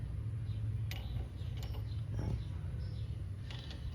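A 17 mm socket wrench works an axle nut loose from a hub bearing on a 2002 Pontiac Grand Am: faint, scattered ratchet clicks and creaks over a low background hum.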